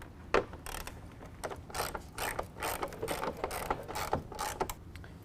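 A ratchet with a 10mm socket turns a headlight bolt, giving a series of quick, close clicking bursts in an irregular rhythm over a quiet background.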